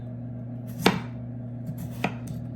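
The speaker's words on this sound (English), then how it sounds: "take this knife right here and just start cutting it just like this" A kitchen knife slices peeled potatoes thin on a cutting board for cheesy potatoes, two distinct crisp cuts standing out over a steady hum, no talking.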